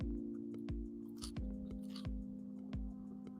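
Someone chews a crunchy celery noodle salad up close, with steady bites and mouth sounds in a regular rhythm over a faint background hum, and no talking.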